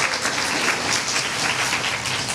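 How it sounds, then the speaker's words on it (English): Steady applause from a crowd at a 2023 School of Communications graduation reception, a dense continuous patter of many hands that holds evenly throughout without voices over it. "So I want to give a round of applause to all the people who are here celebrating this moment"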